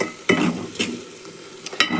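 Ground paste frying in hot oil for idli sambar, a continuous close sizzle broken by a few loud scraping stirs of a metal spoon against the pan.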